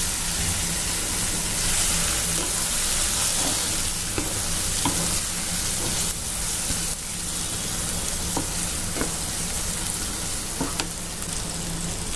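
Homemade masala spice mix stirred as it fries in a pan, a steady loud sizzle running throughout with scattered scraping clicks from the spoon, and no voices.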